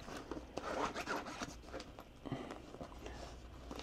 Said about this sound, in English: with the one little zipper right there